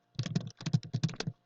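Quick bursts of typing on a computer keyboard, a few clustered clicks in two short runs, close and fairly quiet with no talking over them.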